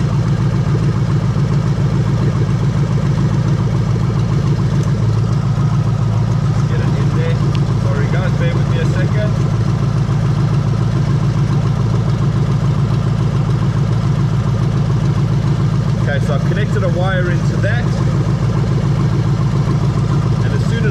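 A Toyota 1UZ-FE V8 engine swapped into an IS200 runs at a steady idle close by, a constant low rumble with faint mechanical clatter throughout.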